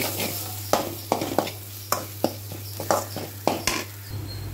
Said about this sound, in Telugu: ఈ బటానీ పేస్ట్ గ్రైండ్ చేసుకున్నది వేసేస్తున్నాం బాగా ఫ్రై చేసుకోవాలి